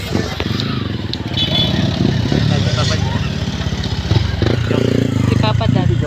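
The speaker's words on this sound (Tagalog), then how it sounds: "Bakit ang motor ba yan?" A motorcycle engine running close by, a throbbing mid-pitched chug that carries through the whole stretch under several people talking.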